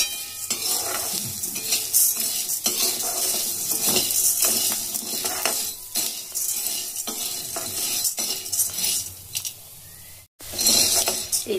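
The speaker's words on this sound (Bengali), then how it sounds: "সেই ঘিয়ের মধ্যে এখন দিয়ে দেবো এই বড় দানা সাবুগুলো। এগুলো একটু ভেজে নেব।" Large sago pearls frying in a spoonful of ghee on a low flame, stirred with a spoon: a continuous soft sizzle with repeated scraping strokes against the pan, close up, before a brief cut.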